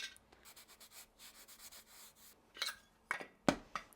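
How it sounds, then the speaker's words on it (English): Abrasive wax rubbed onto a small wood-turned snowman ornament spinning on a lathe, a soft rhythmic scratchy rubbing that turns into a few sharper scuffs toward the end, faint and close. "This is now sanded up, so we can put our abrasive wax on there."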